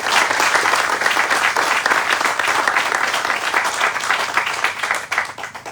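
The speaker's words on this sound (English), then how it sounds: "I think that deserves a round of applause." At a mayor's press conference in Akron about renewed waterways, an audience breaks into dense, steady applause that continues throughout and tapers slightly at the end.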